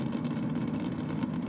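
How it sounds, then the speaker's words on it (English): A car doing a burnout at a grudge drag race gives a steady, rough, throbbing engine roar, loud and sustained with no pauses. "Big strong burnouts either lane here."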